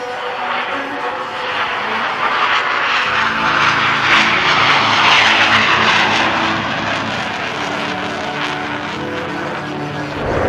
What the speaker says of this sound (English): The test of Kızılelma's air-to-air firing system was recently conducted in Sinop.